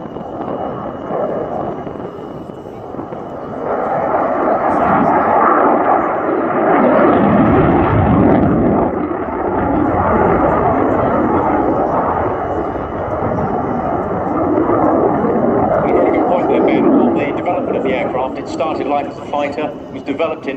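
A Belgian Air Force F-16A MLU Fighting Falcon roars past at an airshow, a broad jet rumble swelling and fading over twenty seconds, with commentary and crowd noise mixed in.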